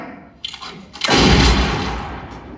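A single loud gunshot blasts after a couple of faint clicks, its boom rolling and slowly fading over the next second and a half.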